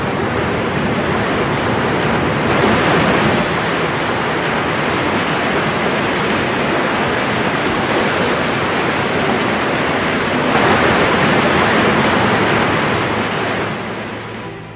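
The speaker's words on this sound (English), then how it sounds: "the stream swells and roars down the mountain in a torrent of foam." A flooded mountain stream roars downhill in a foaming torrent, a steady, loud wash of rushing water that holds on for the whole stretch with no voices.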